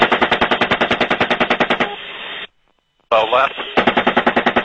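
Bursts of automatic gunfire hit a disabled van, loud and rapidly repeating, broken by a brief silent gap, with shouted voices and radio chatter over the shooting.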